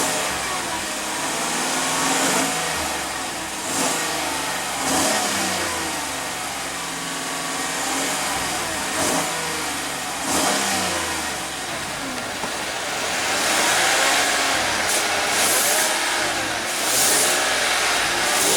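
A 2015 Chevrolet Tahoe with a 5.3 L V8 is revved several times, each throttle blip swelling loud and close over a steady engine rumble for about eighteen seconds.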